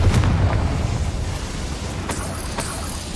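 Confringo blasting spell detonating in the Hogwarts Legacy video game, a heavy low boom that opens loud and rumbles on as debris settles, with a couple of sharp cracks near the end.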